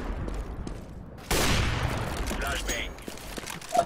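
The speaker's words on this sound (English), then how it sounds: "Flashbang." A flashbang goes off in the video game Overwatch: a sudden loud, broad burst cuts through steady game noise and is followed by a lingering hiss and ringing, with faint muffled voices in the background.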